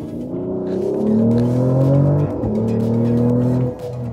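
A Mercedes-AMG GLE 53 Hybrid's engine pulls hard while driving, its loud, steady drone climbing in pitch through a gear change and rising again, heard close from inside the cabin with no talking.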